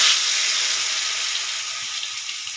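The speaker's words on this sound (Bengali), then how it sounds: "তেল গরম হয়ে গেছে, আলুগুলো দিয়ে দেব।" Potatoes frying in hot oil in a kadai wok give off a steady, loud, close sizzling hiss that starts strongest and eases off slightly, with no talk over it.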